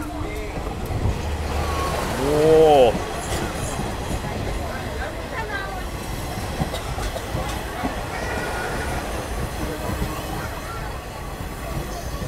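A KiHa 47 diesel local train runs with its doors wide open, giving a continuous loud rumble and rail clatter with a brief rising horn-like tone early on.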